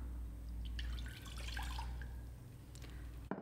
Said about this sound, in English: So I'm going to pour my water into the pan,